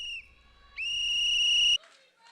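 Protesters blow whistles at a campus event: a brief shrill tone, then a stronger sustained piercing blast lasting about a second before stopping sharply, with a faint crowd murmur beneath.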